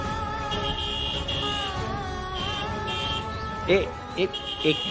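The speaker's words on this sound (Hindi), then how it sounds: "तू कहाँ हॉर्न बजा रहा है भाई?" Short car horn honks, several brief beeps near the end, over traffic noise and talking voices.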